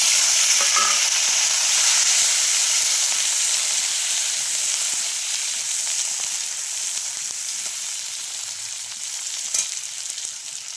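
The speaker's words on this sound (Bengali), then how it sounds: "আলুটা অনেকটা ভাজা হয়ে গেছে এই সময় আমি কাঁচপালাগুলো দিয়ে দিচ্ছি" Potato pieces frying in a pan as green plantain is added, a loud, even hiss of sizzling oil throughout, with a few faint stirring clicks and no speech.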